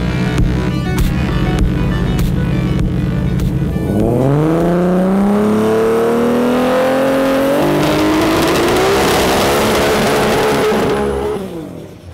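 A turbocharged Ford XW Falcon street car with a Dandy Engines built 3.8 litre Barra six, big turbo and Fueltech EFI revs loudly and steadily, the pitch climbing through a long sustained pull before cutting off.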